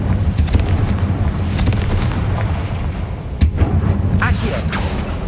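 In Hogwarts Legacy, the Confringo fire spell bursts with booming, explosive blasts over a rumbling battle din, with one sharp, loud crack standing out midway and further pops following.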